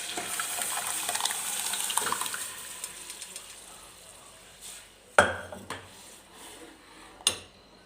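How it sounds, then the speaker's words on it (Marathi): Water is poured into a cooking vegetable curry in a pot, a soft running splash early on followed by a few sharp clinks of a utensil against the vessel, close and without speech. "याच्यामध्ये मी आता थोडंसं पाणी ॲड करते"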